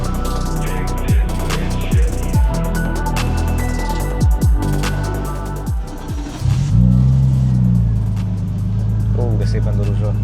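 A Nissan Stagea RS Four S wagon's engine blips a few times, then settles into a low, steady idle rumble close by, with people talking over it.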